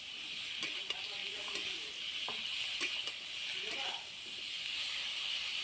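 Flat beans and potatoes frying together in a pan, a steady soft sizzle with occasional stirring clicks, with someone talking over it.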